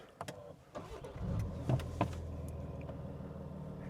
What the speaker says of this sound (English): Now I'm going to start the car